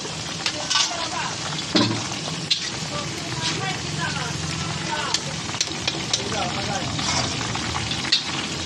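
Drumstick (moringa) stems fry in hot oil in a home kitchen, a dense steady sizzle and bubbling crackle with occasional stirring clinks, close and loud, while a person talks over it.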